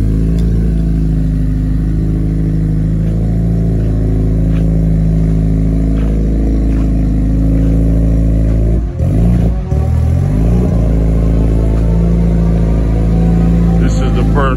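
A car engine revs loudly up close on its first drive after shop work, a constant mid-pitched drone with a rising rev sweep near the middle, while people talk over it.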